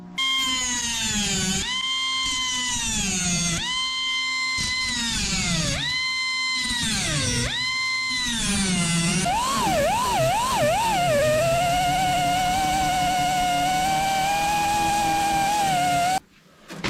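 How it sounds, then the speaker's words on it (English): A power grinder roughing up a rusted metal car roof: a loud, close, whining motor that rises and falls in pitch in repeated pulses, then holds a steady high whine before cutting off abruptly. "we're going to kind of rough this up a little bit with a grinder"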